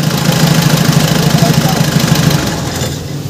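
Mitsubishi Adventure 4D56 diesel engine running right after a top overhaul, a loud steady close-up clatter with a rhythmic low pulse that eases slightly near the end.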